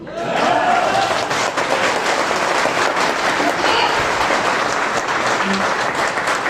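Audience applause at a live session meeting near Jim Corbett, a dense, steady clapping that holds loudly from start to finish with a faint voice briefly underneath.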